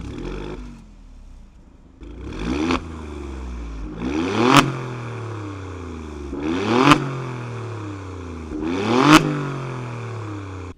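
A 2024 Alfa Romeo Stelvio Quadrifoglio sports SUV's engine revs hard four times in a row, each burst rising to a loud exhaust roar before dropping back to a rumbling idle, close by.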